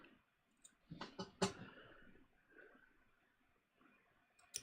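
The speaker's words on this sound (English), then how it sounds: "I'm just going to trim these a little bit here to remove a little bit of bulk here like this." Small scissors trimming the seam allowance on a jeans waistband: a quick cluster of crisp close snips and clicks, then quieter rustling of denim, with a final faint snip.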